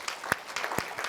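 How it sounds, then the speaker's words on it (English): Audience clapping at a real estate seminar, brief and fairly faint, with a few scattered sharp claps rather than a full burst. "Let's give Danae a round of applause."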